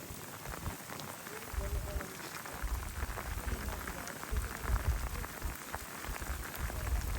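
Heavy rain pours steadily around a volcanic eruption, beating on hot lava and ground with a dense, constant hiss that swells and eases slightly, close and enveloping.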